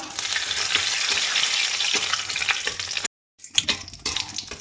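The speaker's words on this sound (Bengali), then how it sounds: "এবার আমি পুর তৈরির জন্য এখানে ফোড়ন দেব এবার আমি লঙ্কা দিলাম তেজপাতা" Green chilli and bay leaf tempering in hot oil, a loud crackling sizzle with stirring clicks that cuts out briefly near the end, then resumes with sharper spatters.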